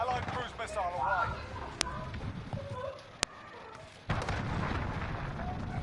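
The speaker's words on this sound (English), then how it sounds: "Allied cruise missile away." In the Call of Duty: Modern Warfare video game, an allied cruise missile strike lands as a heavy booming explosion after sharp cracks of gunfire, with a continuous rumbling battle bed underneath and people talking.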